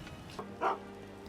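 A dog in a video game lets out a single short, quiet bark over a faint steady background hum.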